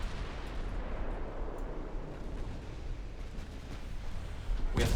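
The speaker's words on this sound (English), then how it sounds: "We have 8 torpedo hits so far." Torpedo hits explode against warships in Ultimate Admiral Dreadnoughts, a low, rumbling roar of distant blasts that swells and holds, ending in one sharp, loud impact.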